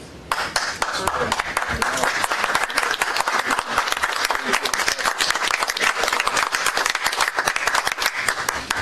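An audience at a police services board meeting breaks into dense, steady clapping that stays close and loud throughout without pause.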